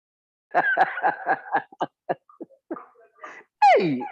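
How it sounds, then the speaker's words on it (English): A person coughs in a rapid series of short, harsh bursts, then a few scattered coughs and a final strained, wheezy one, close up. "And yes, the coughing is being heard here."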